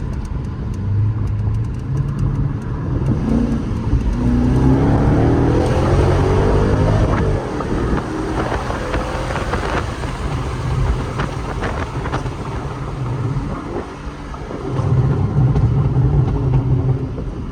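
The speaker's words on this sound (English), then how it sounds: "Sound of backfire is totally normal," A car with a burble exhaust tune pulls hard in second gear, engine revving loudly under wind buffeting, with a run of sharp crackling pops and backfires in the middle as the revs drop.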